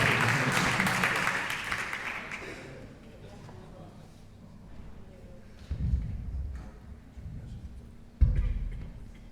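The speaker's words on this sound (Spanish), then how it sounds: "Recibimos al pastor Walter con un fuerte aplauso." A burst of audience applause at a church service fades out, followed by quieter room noise and a couple of dull thumps.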